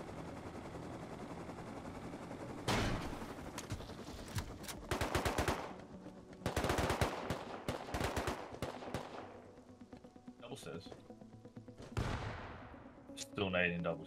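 AK rifle fire in the video game Rust: several loud automatic bursts at irregular intervals, mixed with other distant shots and game ambience.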